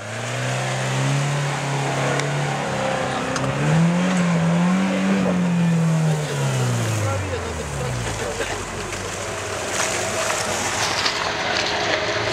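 A Kia Sportage climbs an off-road trail, its engine droning loud and steady with a rising, falling pitch as it strains under throttle, while people talk over it throughout.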